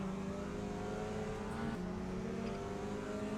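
Touring cars, a Cupra Leon TCR and a Renault Megane TCR, race in the RaceRoom game, their engines a steady, loud, continuous drone with shifting pitch throughout.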